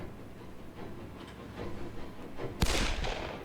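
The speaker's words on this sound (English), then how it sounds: "I heard another gunshot." A gunshot bursts out sharply near the end, loud and close, after a stretch of low rumbling noise and scattered thuds.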